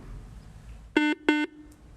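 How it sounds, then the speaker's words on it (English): Two short, loud electronic game show buzzers sound in quick succession, harsh and tonal, against a quiet background. "that buzzer is the end of our game"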